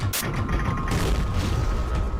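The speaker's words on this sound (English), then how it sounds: "I can destroy normal gates and obstructions with the cannon." A cannon in the video game Pirates fires at a gate, giving a sharp, close blast at the start that rolls into a sustained rumbling boom and debris noise for the rest of the short clip.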